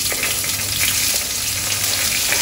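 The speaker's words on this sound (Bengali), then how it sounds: "পিঁয়াজখিনি এতিয়া ফ্রাই করে লম অলপ সময়।" Onions frying in oil in a home kitchen pan with black cumin seeds, a steady, dense sizzle and crackle running continuously up close with no voices.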